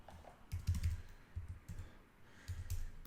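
Quiet typing on a computer keyboard while a Clickbank offer is set up, with short bursts of soft key clicks at the start, middle and end separated by brief pauses.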